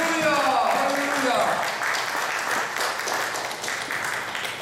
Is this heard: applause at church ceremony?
yes